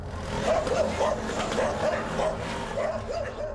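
Stray dogs in a Delhi-NCR street yelp and bark in a string of short, repeated calls, moderately distant, mixed with traffic and background murmur.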